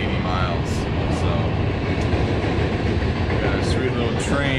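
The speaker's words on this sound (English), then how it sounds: "we got a sweet little train interrupting my intro, and now it's gone." A small train passes by outdoors at the start of a long day's travel, a steady continuous rumble with rail rattle, fairly loud and close throughout, with no talking heard.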